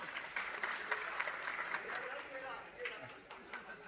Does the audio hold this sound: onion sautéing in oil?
no